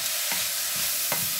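Grated carrot and beans stir-frying for chicken fried rice, a constant hiss of oil with two quick scraping strokes of the spatula close by.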